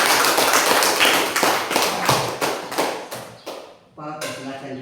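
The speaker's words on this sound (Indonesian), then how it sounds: "Tepuk tangan dulu untuk kelompok 1." A classroom of students claps for a presenting group, a burst of dense, fast applause that thins into scattered, separate claps before a teacher's voice returns.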